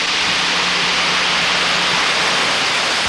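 Payne Falls on Paine Creek in Ohio pours in a loud, unbroken roar of white water, a constant dense rush heard up close with no other sounds.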